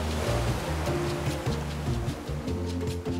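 Ocean waves at Pasta Point in the Maldives make a constant rushing surf noise under steady music, with no voices.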